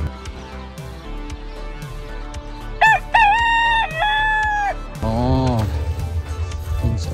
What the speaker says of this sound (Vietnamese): Oh, một chú gà trống.